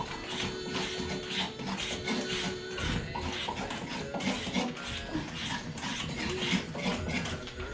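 A commercial Swiss peeler machine peeling butternut squash gives a steady, busy mechanical clatter of whirring and rasping, running continuously at moderate level without speech.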